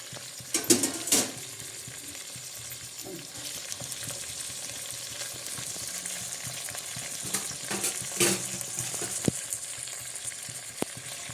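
Eggplant coated in masala sizzles and fries in a pan as it is stirred, a steady hiss broken by a few louder spoon scrapes near the start and again around the middle.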